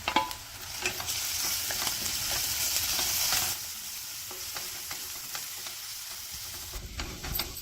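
Steady frying sizzle of ginger, garlic, chili and turmeric paste in a pan, with occasional stirring scrapes, fairly close, dropping a little in intensity partway through; no voices.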